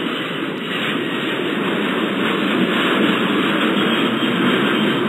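Jet airliner taking off in the airport control game Airport Madness 4, set in a desert airport: a loud, continuous roar of jet engines, steady and building slightly over several seconds, heard alone.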